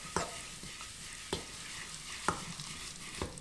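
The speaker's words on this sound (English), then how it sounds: "And now you can start to mix." Vegan porridge being stirred in a bowl, quiet soft mixing noise with four distinct clinks of the utensil against the bowl at roughly even intervals, close and faint, no talking.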